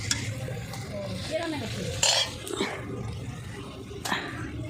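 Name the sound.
kachori deep-frying in oil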